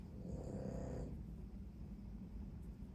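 A pug dog snoring close by, a rough rumbling breath in the first second followed by quieter, low snuffling breathing.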